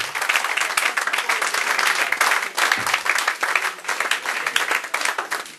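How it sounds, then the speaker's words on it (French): A church congregation claps together in sustained, dense applause that fills the space evenly throughout, with a brief dip midway before the clapping surges again. "Acclamons pour le Seigneur."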